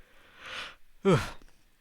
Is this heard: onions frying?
no